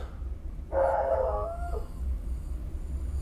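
A dog outdoors lets out a single drawn-out bark, almost a howl, over a steady low rumble, then falls quiet.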